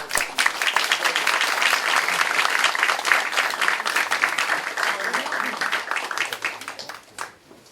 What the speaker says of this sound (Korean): 박수로 열렬히 지지해 주시면